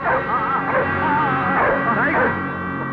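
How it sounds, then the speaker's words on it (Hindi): Several dangerous guard dogs bark and yip excitedly. Their overlapping barks come in busy bursts under a steady background, with a voice talking over them. "आपने तो बड़े खतरनाक कुत्ते पाल रखे हैं।"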